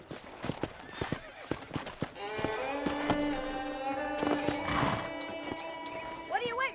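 Horse hooves clip-clop in a quick, uneven rhythm in the Western video game Red Dead Redemption, then settle as a horse whinnies and snorts near the end, with voices heard in the scene.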